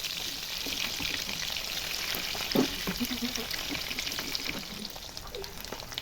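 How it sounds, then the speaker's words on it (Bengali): Button mushroom pakoras deep-frying in oil over a medium-low flame give a continuous close, hissing bubble with a few soft pops and a brief splash-like burst midway, steady throughout. "এবার এটাকে সবগুলো আমি একেবারে দিয়ে দিলাম তেলে। এবার এটা মিডিয়াম টু লো ফ্লেমে ভেজে নেব সুন্দর করে।"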